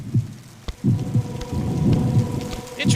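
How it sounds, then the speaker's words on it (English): Rain falls in the horror video game Dementium Remastered, a steady patter on surfaces with deep low thumps recurring rhythmically beneath it, close and fairly loud with no talking. "Interesting detail that everything is raining."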